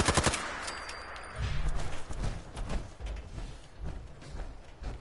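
Rapid bursts of gunfire from the video game Fallout 4, a sharp volley opening the clip followed by scattered shots and clatter, loud and close with no talking.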